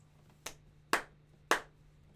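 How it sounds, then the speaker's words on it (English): Three sharp, separate hand claps in a sound-dampened room, each dying away quickly with little ringing, over a faint steady hum. "Like if you clap,"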